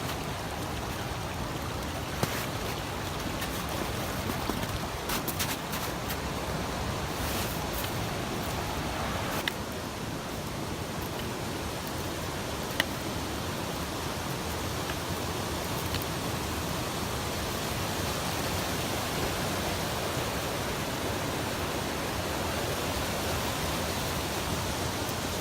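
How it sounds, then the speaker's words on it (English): A waterfall on a backpacking trip in the Teton mountains gives off a steady, broad rushing hiss that stays even and fairly loud throughout, with a few faint knocks and no voices. "Check out this waterfall."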